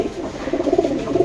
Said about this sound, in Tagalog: Nong Renz tong ibon.